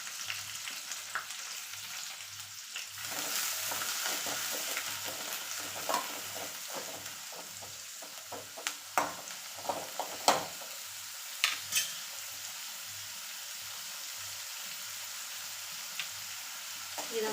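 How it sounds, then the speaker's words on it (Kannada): Onion sizzles softly in hot oil in a pan while a spoon stirs it, scraping and clicking irregularly over a steady low frying hiss, with no voices. "ಇವಾಗ 1-2 ಉಳ್ಳಾಗಡ್ಡಿಯಷ್ಟು ನಾನು ಇದಕ್ಕೆ ಎತ್ಕೊಂಡಿದ್ದೆ ಹಾಕ್ತೀನಿ."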